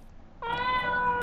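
A cat meows once in the Ib video game, a short, clear, close call that cuts in sharply after a quiet start.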